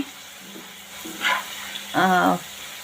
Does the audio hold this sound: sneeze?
no